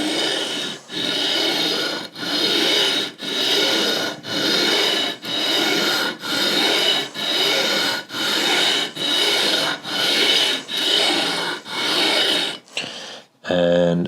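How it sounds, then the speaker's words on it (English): 150-grit sandpaper rubs back and forth across guitar frets in about a dozen even, rhythmic strokes, close and steady, with a brief knock near the end. "I'm just going to use some 150. Not apply any pressure downward, but just let the sandpaper do the work."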